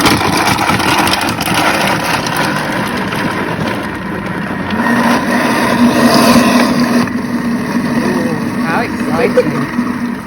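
A Thermomix churns a chocolate ice-cream mixture at speed 6, giving a steady, fairly loud motor whir with a rough, grinding texture throughout, while a person talks over it.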